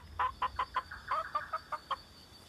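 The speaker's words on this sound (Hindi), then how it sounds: "अरे यार, ये सिर्फ एक मुर्गी है।" A chicken clucks in a quick series of about ten short, fairly close clucks with brief gaps, standing alone over a faint low background.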